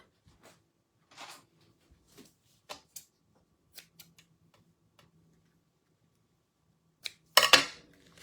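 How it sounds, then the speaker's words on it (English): Scissors snip paper while making a handmade card, giving sparse, faint, sharp clicks spread out over a quiet background and ending in a louder burst of cutting. "Scissors."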